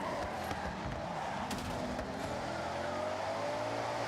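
A car's engine and tires in Forza Horizon 6 as the handbrake spins it out, a steady loud roar with a rising whine and tire noise, continuous for the whole stretch.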